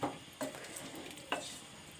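Meat curry (gosht salan) is bhuna-fried in a pot, with a faint frying hiss and three soft scraping stirs, heard alone at low volume.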